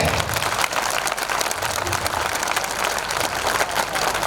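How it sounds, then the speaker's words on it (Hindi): Audience applause at a Hindi poetry recital (kavi sammelan) for a poet, a dense, steady wash of clapping that holds evenly from start to finish with no voices over it. "अब तालियां कमजोर हैं।"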